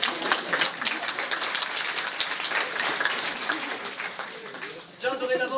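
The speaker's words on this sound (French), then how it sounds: "C'est bien, on peut s'applaudir." A small therapy group applauds themselves in a dense, steady patter of clapping that runs for several seconds, then cuts off as a voice begins speaking.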